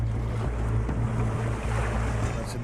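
A small boat's motor drones steadily at sea, a continuous low hum with wind and water noise washing over it, no voices.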